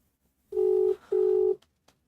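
A phone ringing in two even electronic tones, each lasting about half a second with a short gap between, loud and close in otherwise quiet surroundings.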